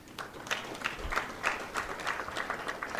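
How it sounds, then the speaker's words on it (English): A conference audience gives the panelists a round of applause, moderate steady clapping heard from a little distance. "Can you give a round of applause to our panelists?"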